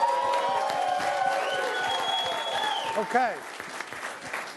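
A large Times Square crowd cheering and applauding loudly and continuously, the roar slowly thinning near the end as a voice speaks over it.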